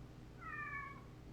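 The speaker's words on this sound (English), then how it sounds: "Oh my god, is that a cat?" A single soft, drawn-out cat meow in the video game Kentucky Route Zero, rising and falling over about half a second against a low, steady background hum.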